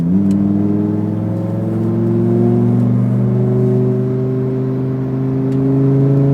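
Lamborghini STO engine accelerating hard on a race track, a loud, sustained rising engine note with steady harmonics climbing through the gears, close and continuous with no voices.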